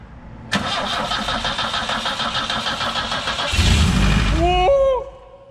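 A BMW E21 barn-find car cranks briefly and its engine catches, idling loud and close, then revs before dropping back down. Near the end a voice briefly calls out.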